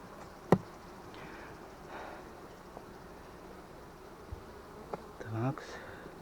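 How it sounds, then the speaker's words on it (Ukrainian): Honey bees crowd over a hive frame while a newly caught swarm is settled into a hive at an apiary, giving a faint steady buzz with a few brief nearby knocks and handling noises. "Теж бджілки обсідають цю рамку."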